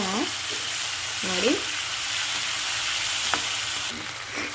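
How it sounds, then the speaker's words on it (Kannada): Vegetables for sambar fry in a pan with a steady, close sizzle throughout. Faint stirring sounds and a few short tonal clinks come through, and no one speaks. "ಸ್ವಲ್ಪ ಒಂದು 5 ನಿಮಿಷ ಖಚಿತವಾಗ್ಲೂ ಫ್ರೈ ಮಾಡಬೇಕು"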